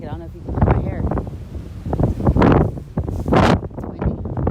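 Gusts of wind buffet the microphone in loud, rumbling bursts during a drive through Gettysburg, with a person talking close by in between.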